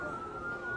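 Air raid sirens sounding across Tel Aviv, heard as a steady sustained wail held at one pitch, distant but clearly present under a low background rumble, with no talking.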